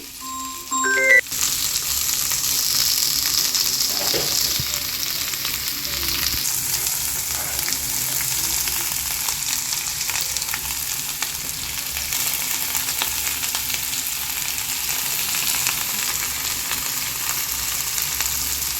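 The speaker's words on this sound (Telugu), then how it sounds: "ఎండుమిరపకాయలు కూడా వేసేసి ఇలా దోరగా వేయించేసుకోవాలి ఈ ముక్కలను" Vegetable pieces fry in a pan with dried red chillies, giving a steady, loud sizzle throughout, opened by a few clinks of stirring at the start.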